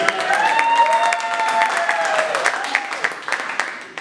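Applause from a magic show audience after a trick of catching a stuffed animal, a brisk patter of clapping with a little cheering, with talk and a few sharp claps carrying over it as it thins out.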